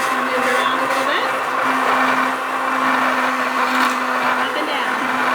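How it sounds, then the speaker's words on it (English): An immersion blender whirring through kale Caesar dressing, a loud continuous motor drone with a steady pitch that dips slightly as the blender is moved up and down, close to the microphone. "I'm using an immersion blender"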